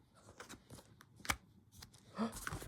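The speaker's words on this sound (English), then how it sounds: "Okay, so I'm going to pick my card." Playing cards riffle and flick in a few quick, soft bursts as a card is drawn from the deck, heard up close and faint.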